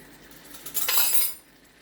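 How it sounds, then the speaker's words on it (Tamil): A ladle stirs onion, ginger and garlic frying in a pan, giving a brief metallic scrape and clink over a soft sizzle, rising and fading within about a second. "அடுத்தது கரண்டியை எடுத்து நல்லா வணக்கி விட்டுருங்க"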